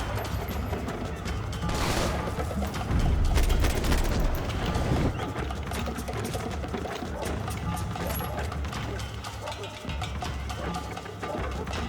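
Gunfire in the shooter game Max Payne 3, a dense broadband rattle of shots and impacts running through most of the stretch, loudest in the middle, with a voice talking over the game noise.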